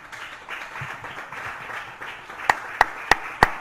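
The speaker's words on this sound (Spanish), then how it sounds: "Vamos a brindarle un fuerte aplauso a nuestro Dios." Soft crowd noise at a church service, then four sharp, loud claps spaced evenly near the end.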